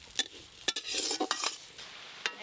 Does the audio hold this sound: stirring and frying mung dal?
yes